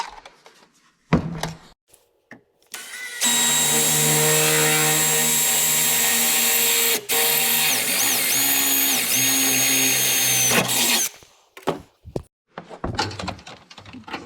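A power drill bores a hole while an air compressor pump is mounted under the hood of a 2017 Duramax truck: one loud, steady whine lasting about eight seconds, with shorter bursts of drilling and handling noise before and after.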